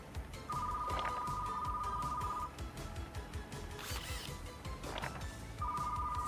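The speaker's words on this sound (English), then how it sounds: "I swear if that phone rings one more time." A phone rings repeatedly in a video store simulator game, with two long electronic ring bursts at the start and another at the end. Clicks and a busy ticking bed of game sounds run throughout.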